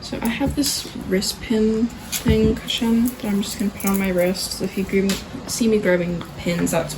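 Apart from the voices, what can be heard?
No distinct noise like a dog, phone or traffic.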